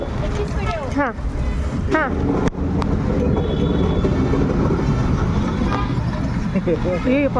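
Loud, steady rumble of a moving train close by, with people talking over the noise.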